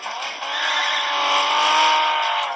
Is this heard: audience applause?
no